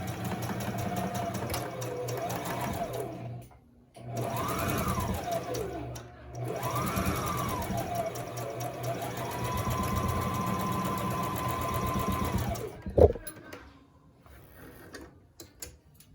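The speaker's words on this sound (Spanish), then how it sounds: "Le voy a coser con puntada recta y luego voy a coser con puntada de zigzag" A domestic sewing machine runs long straight-stitch seams on a simple dress, a steady mechanical whirring in several bursts separated by brief pauses, close and fairly loud, ending with a sharp clack.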